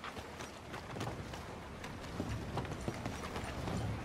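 Hooves of a galloping horse in Red Dead Redemption 2, a steady clip-clop rhythm of fairly faint, soft thuds repeating through the whole stretch over a low ambient bed, with no talking.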